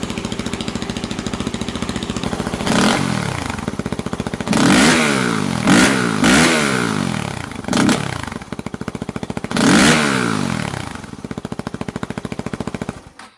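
Yamaha WR250X motorcycle engine running after a repair, loud and close, with steady idle pulses broken by several sharp throttle blips that rise and fall, no rattle audible.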